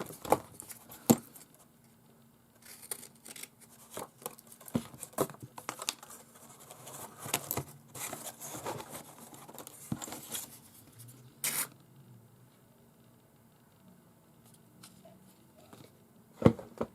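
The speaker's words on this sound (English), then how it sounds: "And I'll get my scissors" Scissors cut through paper for a handmade paper purse, giving quiet, irregular snips, crinkles and rustles up close, with short pauses between cuts and no talk.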